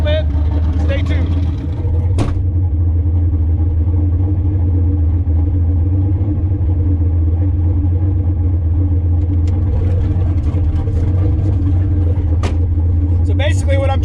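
A Foxbody turbo Mustang engine being broken in rumbles at a steady, deep idle close by, with a few sharp clicks and faint rattles over the drone and no talk.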